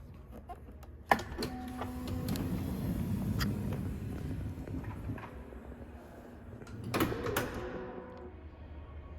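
Power liftgate on a 2009 Chrysler Town & Country opening, a faint motorized hum running several seconds, bracketed by a sharp click at the start and a soft latch sound near the end.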